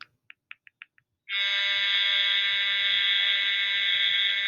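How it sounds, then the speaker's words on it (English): A fire alarm goes off indoors, first with five short electronic beeps, then a continuous loud, piercing tone that fills the room and keeps sounding. "fire alarm's going off, so we will stop there"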